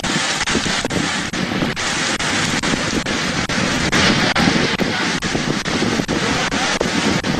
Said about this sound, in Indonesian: Hujan deras disertai angin kencang menghantam kawasan perkantoran pemerintahan di kawasan Bener Meriah, Aceh.